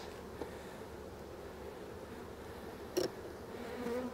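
Honey bees buzz steadily around an open beehive while resource hives are filled with foundation, a continuous near drone of wingbeats with a few brief louder passes close by.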